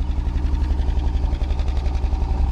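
A 1964 Rambler American wagon engine, started after sitting 26 years, idles with a steady low rumble and a faintly uneven pulse, close and continuous throughout.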